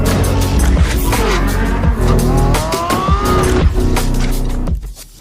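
Lamborghini Revuelto engine: a loud car roaring at high revs with rising and falling pitch as it shifts, tire squeal mixed in, before it cuts out abruptly near the end.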